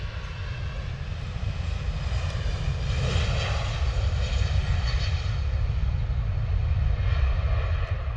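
EasyJet airliner on its takeoff roll down the runway at London Stansted Airport, giving a steady, loud, sustained engine roar with broadband rumble and no break throughout.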